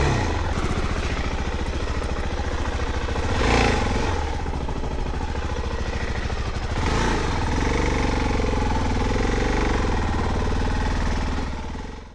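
Suzuki DR-Z4S motorcycle engine held at low revs as the bike creeps up a slick off-camber slope, a steady close-up thrum with slight swells in throttle and no talk.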